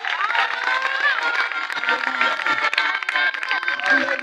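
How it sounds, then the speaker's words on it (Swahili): A church congregation claps in praise of Jesus amid dense crowd noise and shouting voices, a steady loud wash of hands with no pause throughout. "Mchape makofi ya kwa Yesu."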